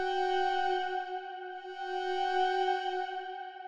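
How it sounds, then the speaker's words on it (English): A sustained synthesized drone chord made with Ableton Operator holds steady, with stacked tones forming an uneasy, slightly wavering harmony that stays even and alone. "So the first layer we have here is this little drone I made with Operator,"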